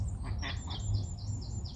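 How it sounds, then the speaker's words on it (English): One female duck and several drakes call near a bream-fishing swim, a run of short, nasal quacking notes repeating steadily through the moment under a low background rumble, no voices. "One girl duck and about 7 buddy boys."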